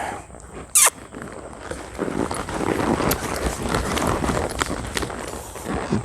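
Horse loping around an arena, its hoofbeats a steady soft rhythmic thudding over dirt, with one sharp squeak early on and no talk.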